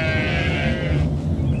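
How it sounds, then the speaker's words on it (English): A baby sheep lets out one drawn-out, wavering bleat, close and loud, against a low background rumble. "I can't take a little baby sheep in the house and Ringo too"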